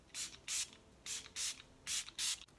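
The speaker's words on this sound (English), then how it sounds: "for setting spray, I'm going to be using my Catrice Illuminating Prime and Fine Dewy Glow Fixing Spray" Catrice Dewy Glow fixing spray is misted onto a face in six short, soft hisses, sprayed in three quick pairs. The spray is close and quiet, and no other sound is heard.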